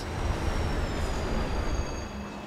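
A train rolls past in the Destiny 2 game world, a steady broadband rumble with heavy low-end clatter and faint high whining tones, loud and continuous throughout with no voices.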